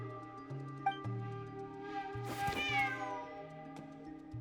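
Ashru the cat gives one drawn-out meow midway through a tea party cutscene in a video game, over a soft, steady musical backdrop with no talking.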